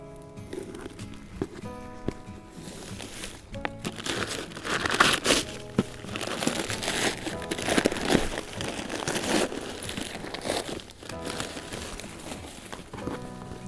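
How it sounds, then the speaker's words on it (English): A wrapped gift holding an Ozark Trail three-piece cookware set is unwrapped, and the paper crinkles and crushes in dense, continuous rustling close by that swells in the middle, with no talk. "Let's go ahead and unwrap our third gift idea and see what we got in store."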